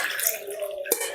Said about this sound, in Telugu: 2 గ్లాసెస్ వరకు వాటర్ వేసేసుకున్నాను